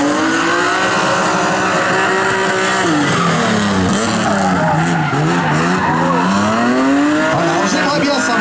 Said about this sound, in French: c'est presque un donut, effectivement. On fait chauffer les pneus